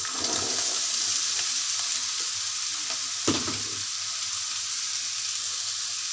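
Cauliflower and potato with shrimp and garlic paste fry in a pan under a steady close hiss. Several scraping stirs cut through it, and one sharp knock of the utensil lands near the middle. There is no speech.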